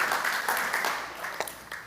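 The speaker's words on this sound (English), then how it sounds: "round of applause for Dayna." Conference audience applauds a speaker with a soft, diffuse wash of clapping, fairly faint and brief, fading toward the end.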